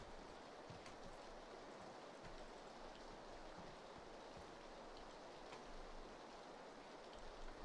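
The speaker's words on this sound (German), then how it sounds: "Doof, dass es regnet." Rain falls in PUBG as a faint, even hiss that holds steady in the background without pause.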